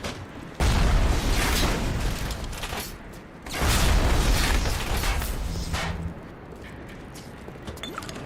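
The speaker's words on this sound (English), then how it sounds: "I'm gonna do grenade launcher damage." Two heavy, booming grenade launcher blasts roll out in BioShock's underwater city of Rapture, the first around one second and the second near four seconds, each followed by a long rumbling tail and crackle.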